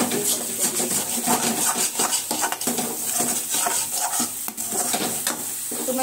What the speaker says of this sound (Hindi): तो थोड़ा सा चम्मच चला देती हूँ और ये सब्जी को भी देखना है।